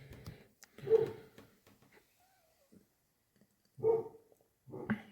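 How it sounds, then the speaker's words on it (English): Several pet dogs bark in short bursts indoors, moderately close, with quiet gaps and a faint whimper between barks. "my dogs are being really loud"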